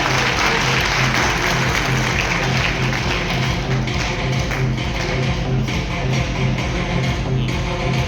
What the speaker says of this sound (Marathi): मला वाटतं टाळ्या प्रत्येकासाठी वाजवणं आपलं कर्तव्य आहे.